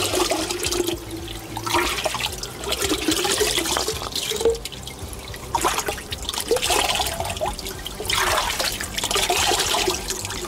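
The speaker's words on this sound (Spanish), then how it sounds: "ya que traía una botella, voy a aprovechar para agarrar agüita" Spring water at a sanctuary in Ireland runs into a bottle, a continuous close trickle and gurgle with the pitch shifting as the bottle fills.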